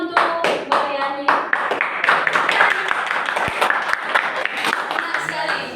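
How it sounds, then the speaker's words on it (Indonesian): A classroom audience claps during a history micro-teaching session, a crisp, busy run of many hands that continues for several seconds while voices talk over it. "Oke, tepuk tangan untuk Mariani."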